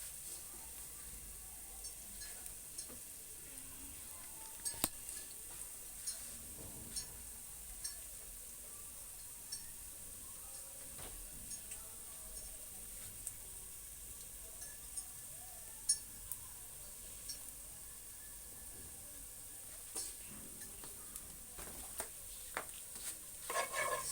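Ginger, garlic and onion go into a pan for a chicken stew, making faint scraping stir sounds, light clinks of a utensil and soft ticks against a quiet kitchen background.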